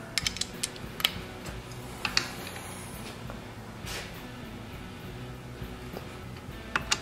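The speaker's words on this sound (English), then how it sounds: "Get my little baby torque wrench that I've had forever." Small torque wrench clicking and ratcheting while tightening head bolts on a cast iron 1936 Briggs & Stratton engine, scattered sharp ticks over a quiet workshop background, no talking.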